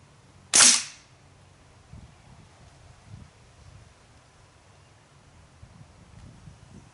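A single sharp, loud air rifle shot, from a Daisy Powerline 880 or Crosman 1077 repeater, cracks close by early on, then quiet outdoor rustle and faint wind follow for several seconds.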